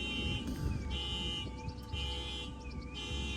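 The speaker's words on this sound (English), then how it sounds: "Why does somebody have to set off a car alarm right in the middle of a video?" A car alarm wails nearby in a repeating cycle of rising and falling electronic tones, steady and persistent over a low background rumble.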